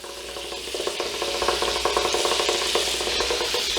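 Butter sizzles in a hot pan over medium-high heat for garlic butter shrimp, a close, steady crackling fry with faint stirring scrapes throughout.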